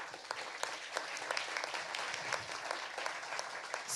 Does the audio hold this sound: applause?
yes